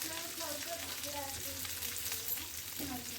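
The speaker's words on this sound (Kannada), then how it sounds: "ಒಂದು ಸ್ಪೂನ್ ಎಣ್ಣೆ ಹಾಕ್ಕೊಂಡು ಚೆಂದಾಗಿ ಹುರಿತೀನಿ ನೋಡ್ರಿ" Sliced ridge gourd fries in a spoonful of oil, a steady close sizzle with bursts of crackling and the occasional scrape of stirring.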